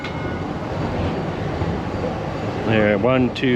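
An amusement park train rolls along its tracks with a steady, broadband rumble that runs the whole time, while someone talks over it near the end.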